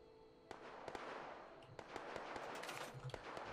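Automated turrets in Fallout 76 fire at attacking enemies at the Charleston Landfill workshop, giving scattered sharp pops and cracks over a steady noisy background of combat din, moderately loud with no talking.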